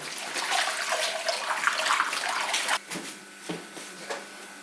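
Water rushes and splashes steadily for a few seconds as it is poured from a bucket during repair of an OM 352A engine, then stops abruptly, leaving a few faint drips and clunks.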